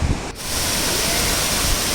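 A mountain waterfall on the Amarnath Yatra trail rushes loudly and steadily up close, with a broad continuous roar and a brief dip near the start.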